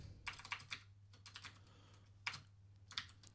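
Typing on a computer keyboard during Java coding, quick bursts of clicking keystrokes separated by pauses, close and crisp with a low steady hum underneath.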